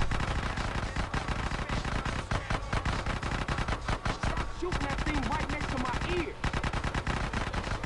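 Dense, continuous automatic gunfire from the video game GTA San Andreas during a mission attack on a base, loud rapid bursts filling the whole stretch with brief gaps, and a voice talking faintly underneath.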